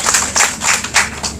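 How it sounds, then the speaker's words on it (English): An audience claps hands at a morning reflection session in Bengaluru, a short burst of close, steady applause with rhythmic peaks, no voices over it. "Please give them a big hand."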